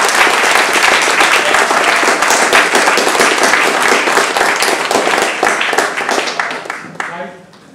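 An audience in a lecture hall gives sustained applause for an invited speaker, a dense, loud wash of clapping that goes on for several seconds before fading out, with voices faintly mixed in toward the end.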